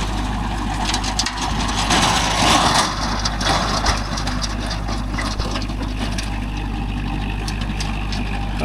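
A Kubota MU4501 45 hp tractor runs a 42-blade Gomathi rotavator in a coconut field, giving a steady, loud low engine drone with mechanical churning and rattle over about nine seconds, with no speech.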